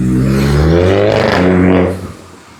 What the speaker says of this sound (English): are these people running the car with this broken exhaust?